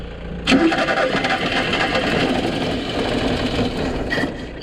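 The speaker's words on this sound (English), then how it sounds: "The engine is actually starting to run" The engine of a Ford Transit Mk2 camper van cranks and catches, then runs with a rough, rapid mechanical chatter close by for a few seconds.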